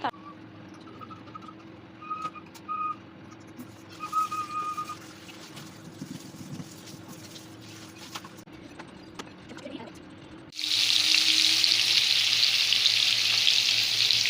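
Fish frying in a pan: after several seconds of quiet kitchen sounds with faint tones, a loud hissing sizzle bursts in abruptly and holds steady to the end.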